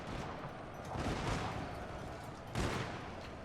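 Gunfire volleys from ranked musket troops in the feudal-Japan strategy game Shogun 2 Total War, rolling crackles that swell around the one-second mark and again near two and a half seconds over a steady battlefield din.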